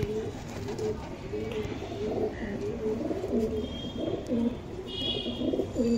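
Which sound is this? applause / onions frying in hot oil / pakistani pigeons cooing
pakistani pigeons cooing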